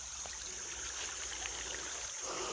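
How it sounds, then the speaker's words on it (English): Creek running high after heavy rain, a steady soft rush and trickle of water heard from a little distance, fairly quiet and continuous with no talking. "Ooh, creek's up. We've just been getting just a ton of water."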